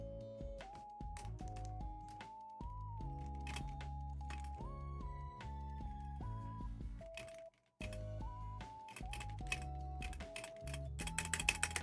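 Typing on a Fox Labs mechanical keyboard, a busy stream of close, crisp key clicks and clacks under steady background music.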